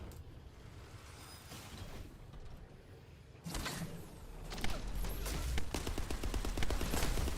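Gunfire from weapons shooting a kneeling boss in a looter-shooter video game, starting as a steady texture and swelling into louder, rapid, sustained automatic fire in the second half, with no talk.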